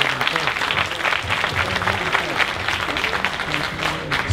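Rally crowd at Southern University applauds civil rights attorney Benjamin Crump, steady dense clapping with scattered cheers filling the whole stretch, loud and sustained.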